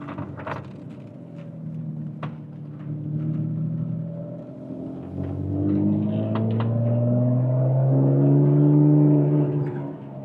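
Ferrari 599 GTB Fiorano V12 from 2008, driven in second gear through hard turns in a cul-de-sac, its engine droning steadily and then swelling louder as the revs climb and pitch rises.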